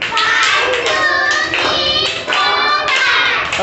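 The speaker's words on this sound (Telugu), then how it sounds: "నేను ఎంత నంబర్ చెప్పానో మీరు అన్ని క్లాప్స్ కొట్టాలి, ఓకేనా?" A group of children claps together in a classroom, several sharp clustered claps in quick succession that ring loudly, with children's voices mixed in.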